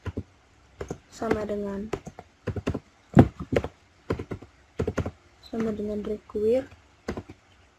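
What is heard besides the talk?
typing code on a computer keyboard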